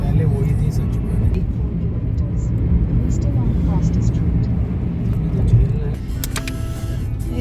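Heavy road traffic in Gurgaon forms a steady, dense rumble of engines close by, holding level throughout with brief higher-pitched sounds near the end.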